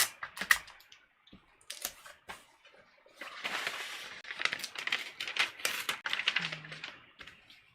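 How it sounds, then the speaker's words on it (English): Adhesive tape pulled and pressed down onto fabric, likely a muslin bodice draft, giving soft crackling strips and taps close by, in short bursts with quiet gaps between them. "I'm just taping it all the way down"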